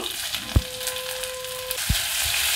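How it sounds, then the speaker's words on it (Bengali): Panch phoron, grated ginger and asafoetida fry in hot oil with a continuous sizzle, while two soft thumps and a brief tone sound from the kitchen. "অল্প একটু 5 ফোড়ন দিয়ে দেব। এখানে হাফ চামচ মতো আদা গ্রেট করে রেখেছি, ওটাও দিয়ে দেব। অল্প একটু হিং দিয়ে দেব।"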